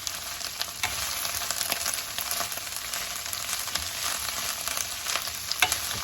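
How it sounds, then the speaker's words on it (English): Turkey and cabbage stir-frying in a pan, with moist cabbage giving a steady close sizzle and frequent sharp pops and crackles throughout, no talking. "my cabbage does still have a little bit of moisture in my cabbage. That's why you hear the popping"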